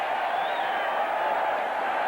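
Football stadium crowd at a 1984 Washington Redskins versus New England game roaring after a big third-down play, a steady broad wash of cheering held at an even level from start to finish.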